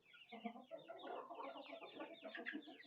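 Baby chicks on a homestead peeping, a continuous flurry of high, rapid chirps from several birds close by, fairly quiet.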